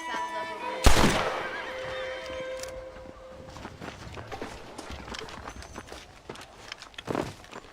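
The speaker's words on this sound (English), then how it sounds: "The horses are saddled up over here." A saddled horse in the video game Red Dead Redemption gives a loud neigh near the start, followed by clopping hooves and scattered movement sounds, with talk mixed in.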